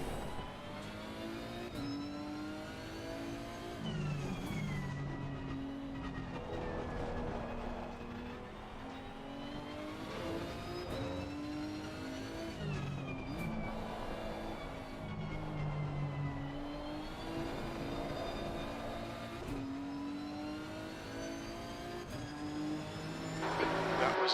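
A Nissan GTR race car engine in Assetto Corsa Competizione at the Hungaroring, revving and shifting through gears in repeated rising whines as it heads to the garage, loud and continuous, with faint speech underneath.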